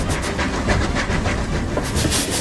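Rocket steam locomotive running at speed on rails, a steady loud rush of rhythmic clickety-clack and hissing steam throughout, with no talk.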